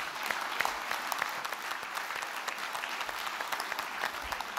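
A French gathering gives a successor a round of applause, a steady wash of many hands clapping at a distance, fairly even throughout with no voices breaking through.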